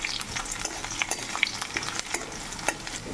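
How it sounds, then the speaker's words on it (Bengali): Garlic and nigella seeds fry in a pan, giving steady crackling sizzle with a spoon scraping and stirring in sharp clicks throughout; no one speaks. "রসুন ভেজে নিয়েছি"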